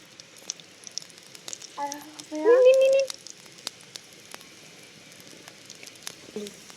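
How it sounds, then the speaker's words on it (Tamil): Onions tipped into hot oil for a home-style crab dish give a soft, steady fizzing sizzle that runs throughout, with a short burst of voice in the middle. "எண்ணெய் சுட்டு வெங்காயம் போடலாம்."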